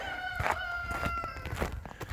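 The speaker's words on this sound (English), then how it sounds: "Chickens think I got treats for them or something." Chickens cluck and crow nearby in short, overlapping bursts, with a rooster's call standing out over faint rustling.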